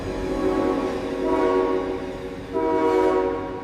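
A train rumbles past while its horn blares in two long, loud blasts over the steady rolling noise of the cars.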